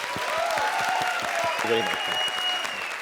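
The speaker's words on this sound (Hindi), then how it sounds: "एक बार जोरदार तालियां श्री के लिए" Studio audience applause on a TV comedy show, a steady dense patter filling the clip, with a host's voice and some tonal music heard over it.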